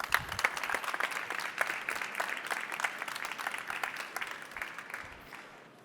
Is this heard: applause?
yes